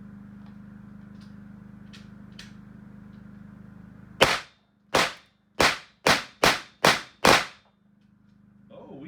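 An AEA BW S45 mini 357 air pistol fires seven sharp, loud cracks in quick succession after a quiet stretch of background hum, the last two shots landing close together as a double.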